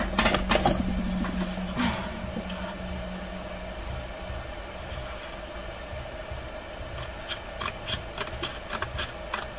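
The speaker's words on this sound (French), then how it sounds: "Alors, je vais le faire avec des ciseaux." Scissors cut paper for a handmade Christmas mini album, giving a series of short, crisp snips, some clustered at the start and more near the end, over a steady low hum.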